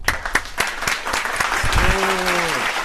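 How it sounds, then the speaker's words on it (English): Studio audience applause, a patchy burst of clapping with scattered sharp claps at first, then a denser wash while a voice with rising and falling pitch speaks over it near the end. "Can we just all give him a round of applause for being brave and saying it?"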